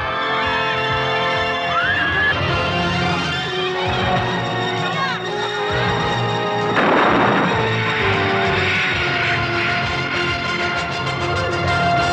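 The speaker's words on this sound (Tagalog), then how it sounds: "Sino nagpaputok? Sino nagpaputok?" A loud gunshot-like blast in a Filipino comedy film scene bursts out partway through, amid a noisy background of voices and crowd commotion.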